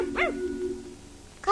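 A small dog, a puppy, gives one short, high yip near the start, followed by quiet background hum.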